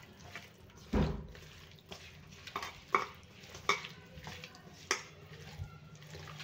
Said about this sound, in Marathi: आता हे छान मिक्स करून घेऊया।